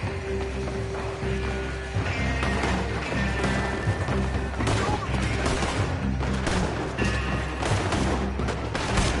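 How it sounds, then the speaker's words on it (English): Red Dead Redemption 2 gunfight with dense, continuous gunfire, rapid overlapping shots and cracks over a loud game soundscape, with a voice talking through the shooting. "Gun them down."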